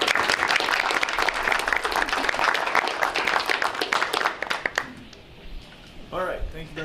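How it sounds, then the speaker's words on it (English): A round of applause fills a school board meeting room, steady and fairly close for about five seconds before tapering off into a few scattered claps and a brief voice. "give you a round of applause on behalf of everyone"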